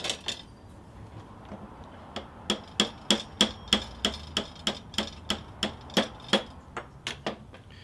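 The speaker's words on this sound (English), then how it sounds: "tap it with a hammer" Light, sharp taps of a hammer on a metal machete handle pin come in a quick, even series of about twenty strikes, close and fairly quiet.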